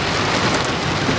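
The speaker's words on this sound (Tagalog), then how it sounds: "Walang tigil halos ang ulan dito sa amin." Heavy, steady rain pours down in a continuous dense hiss at close range, with no voices over it.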